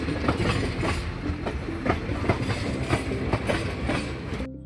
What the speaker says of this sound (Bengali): সাউন্ড হয় ট্রেনের।